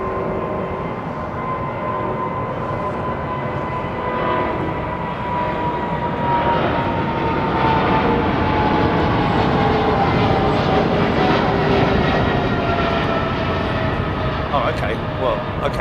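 Old airliner engines roaring at Heathrow Airport, a loud continuous broadband jet rumble with whining tonal lines that slowly shift in pitch as the aircraft moves nearby.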